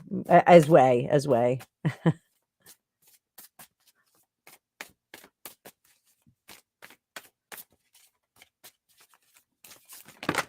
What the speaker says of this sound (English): Whoop! Sloppy shuffle.